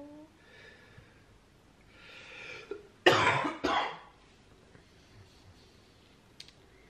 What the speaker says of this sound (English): He's coughing too much.